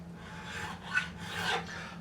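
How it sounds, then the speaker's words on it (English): A metal file rasps back and forth over a fret of a Squier Classic Vibe Jazzmaster guitar in two slow, steady strokes, close up and quiet, with no voices. "I'm letting the file do the work."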